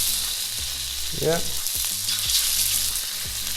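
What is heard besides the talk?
sea bass frying in mustard oil, sizzling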